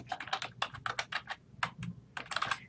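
Typing on a computer keyboard in bursts of quick, clicky keystrokes with short pauses between runs, close and moderately quiet, with no talking.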